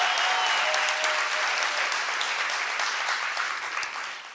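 A livestreamed audience applauds a high school dance workshop troupe with loud, dense clapping that carries steadily and then begins to thin and fade toward the end.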